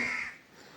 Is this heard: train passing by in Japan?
no